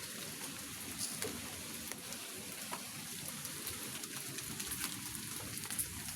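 Rain falls steadily over a cemetery, a soft, dense hiss of drops on surfaces with a few sharper ticks, faint and constant with no talking.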